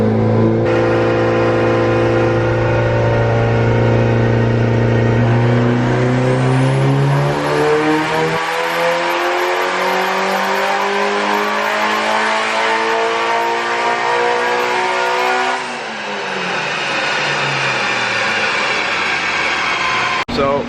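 A Mitsubishi Evo 9 being tuned for E85 revs hard on a dyno, running on 91 fuel, its engine climbing loudly through a long pull before dropping off and settling, with voices heard over it.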